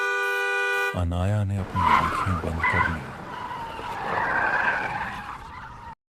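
Cartoon-style sound effect of a speeding truck: a sustained blaring horn, then a long screeching tire skid. A Hindi-speaking narrator talks over the skid until it cuts off abruptly.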